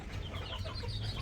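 Hens and chickens in a backyard coop cluck softly and faintly amid a dense, noisy background, with no one talking.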